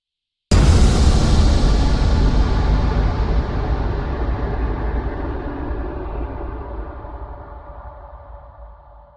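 A layered cinematic impact built from Ragnarok sound library hits and tails: one loud, deep booming hit after a short silence, followed by a long rumbling tail that slowly fades over several seconds, with no talk.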